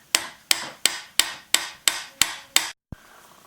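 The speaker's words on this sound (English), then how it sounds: "I'm just going to use a brass punch and just give it a few taps there to make sure it's torqued in there properly" Several sharp metallic taps from a brass punch striking a Shimano dynohub bearing cone, about eight evenly spaced blows in quick succession, close and clear with no talking.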